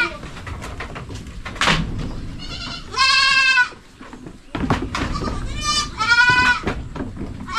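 Goats bleat loudly nearby, two long wavering cries standing out over a background of rustling, shuffling and faint bird chatter.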